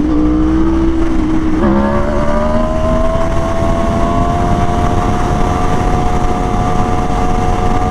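A new Aprilia RSV4 sport motorcycle rides hard on a street, its engine note dropping briefly at a shift, then climbing steadily in a long, loud acceleration, with wind rush throughout and no talking.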